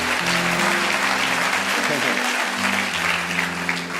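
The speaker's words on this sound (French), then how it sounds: "Acclamons le nom du Seigneur." A church congregation applauds loudly and continuously at a worship service, a dense wash of clapping with voices and sustained tones underneath.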